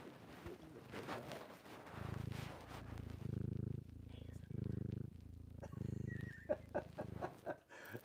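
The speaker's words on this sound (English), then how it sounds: "some purring" A cat purring up close in steady rhythmic bursts, low rumbles pulsing on and off, with some talk and faint sounds over it.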